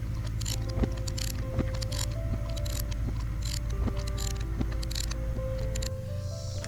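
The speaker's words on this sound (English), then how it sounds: "access and loosen the top thermostat bolt" A ratchet works on the top thermostat bolt of a 2011 Mercedes E-350 in a series of evenly spaced clicks and strokes, faint against a steady low hum in the engine bay.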